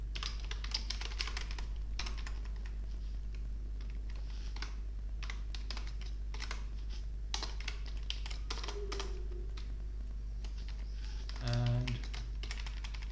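Quick, irregular clicks of a computer keyboard as code is typed, soft and close in a quiet room with a low steady hum underneath.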